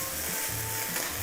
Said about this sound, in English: It's a nice sizzle, I'm telling you.